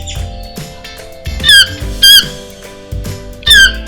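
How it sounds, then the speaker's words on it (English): A toucan gives a series of squeaky, squawking calls in short separate bursts, with several louder rising squeals standing out against a low background hum. "Do you know what animal this is? It's a toucan."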